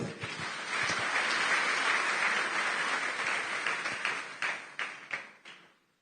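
A church congregation applauding together, a dense burst of clapping that holds steady, then thins into a few scattered claps and fades out.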